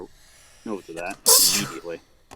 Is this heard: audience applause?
no